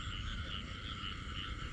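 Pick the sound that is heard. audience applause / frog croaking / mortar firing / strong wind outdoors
frog croaking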